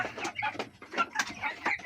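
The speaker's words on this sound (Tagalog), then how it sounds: "update po tayo sa ating mga manok" Chickens cluck and chatter close by in quick, uneven bursts, several birds calling over one another.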